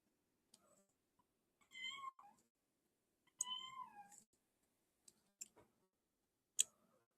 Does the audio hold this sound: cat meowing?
yes